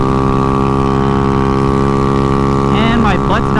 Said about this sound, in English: Only the exhaust makes it sound weird.